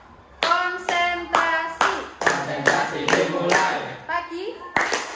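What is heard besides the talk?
children clapping in a classroom clapping game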